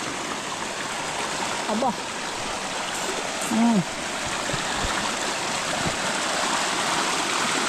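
A small river flows in a steady broadband rush, close and fairly loud throughout, while a person says a short word partway through.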